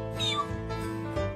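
Gary, the cartoon snail from SpongeBob SquarePants, gives a short, clear cat-like meow, close and alone.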